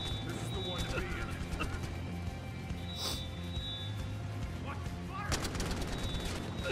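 AK rifle gunfire in a Battlefield Hardline match, scattered bursts of shots over a steady game soundscape with music-like tones, partly under talk.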